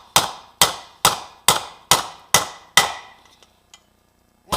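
A hammer strikes a seal driver to seat a bushing seal, giving seven sharp, evenly spaced metallic blows, loud and close, with a couple of faint taps and quiet handling afterward.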